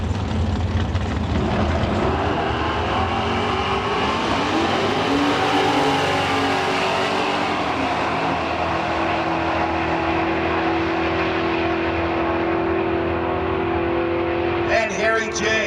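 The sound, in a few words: 1977 Chevy with 496 big-block engine at drag race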